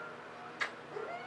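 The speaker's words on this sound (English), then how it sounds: "one of my kitties. Isn't she cute?" A house cat gives a short, clear meow, close by and fairly quiet, followed by a softer trailing note against a low steady background hum.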